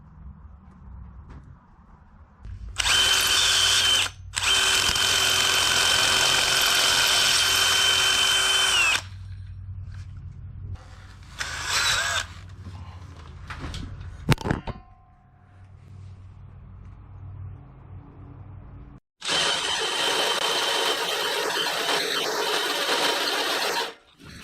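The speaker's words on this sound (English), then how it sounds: "we'll go drill the foot of the wood splitter to put this through" A cordless power drill with an oversized bit bores through the steel foot of a Country Line log splitter, whining loudly in long sustained bursts separated by short pauses and a brief clank.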